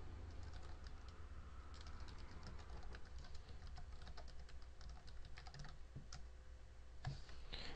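Fingers tapping on a computer keyboard while entering test data into a PHP contact form: a continuous stream of light, close key clicks at a quick, uneven pace over a steady low hum.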